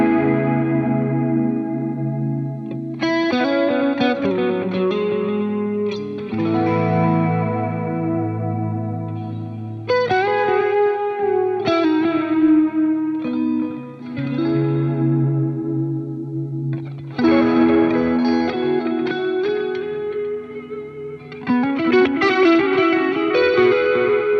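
An electric guitar plays through a Fender Tone Master Pro amp modeller, strummed chords and melodic phrases with chorus, echo and light distortion, loud and continuous with brief gaps between passages.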